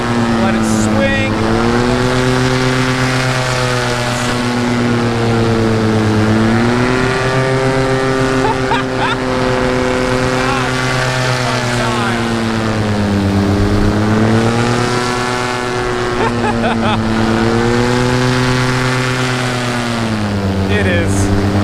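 A paramotor engine buzzes steadily throughout ground handling of an Ozone Viper 5 16m wing. Its strong droning tone rises and falls in pitch in slow waves, loud and close, with no break.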